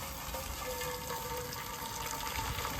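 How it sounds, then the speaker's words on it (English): Water pours steadily into the water pan of a Weber Kettle smoker set up for beef ribs, a soft, continuous splashing and trickling that stays quiet and even throughout. "the water for the water pan. I'm going to fill that right to the top."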